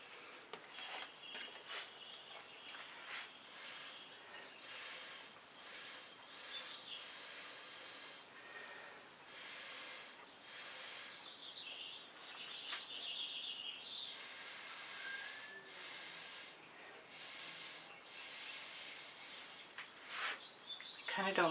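Acrylic fluid paint blown across a surface through a straw, a series of short, breathy hissing puffs coming in irregular bursts, close and fairly quiet, with a few brief gaps between breaths.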